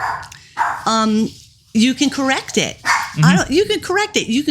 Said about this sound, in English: I'm so sorry about the dog.